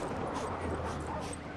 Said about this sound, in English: let's pet the dog